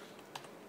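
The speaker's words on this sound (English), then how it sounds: "Now we are going to type in create partition primary." A few quick clicks of keys on a computer keyboard as a disk partition command is typed, two soft taps spaced apart, close and quiet, with no voices.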